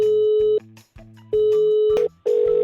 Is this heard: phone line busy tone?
yes